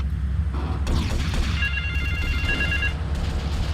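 A telephone rings in the GTA 3 video game, a bright electronic ringing warble lasting about a second and a half, set against low game ambience and a brief rumbling impact.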